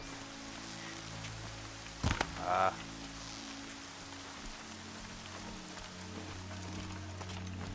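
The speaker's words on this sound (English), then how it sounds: "So, this rain is hard" Heavy rain pours steadily in the video game Horizon Zero Dawn, a dense even hiss throughout, briefly interrupted by a short exclamation from a voice near the start.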